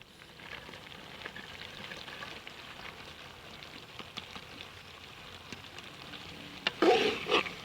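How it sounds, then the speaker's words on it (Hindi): Gentle, steady sizzle and frying of cauliflower stirred into chicken masala in a pan, with soft crackles throughout and a louder burst of stirring near the end, no talk. "अब गोभी को भूनना हमने इस मसाले के अंदर"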